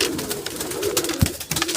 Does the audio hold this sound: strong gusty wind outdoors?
no